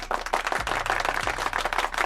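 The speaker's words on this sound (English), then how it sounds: "You get a round of applause." A crowd gives a round of applause, with dense, rapid clapping that holds steady and fairly close throughout the short burst.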